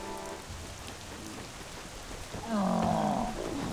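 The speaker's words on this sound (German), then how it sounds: "Es hat angefangen zu regnen." Steady rainfall hisses in the online role-playing game Black Desert Online, joined near the end by a louder, drawn-out tonal roar from something in the game world.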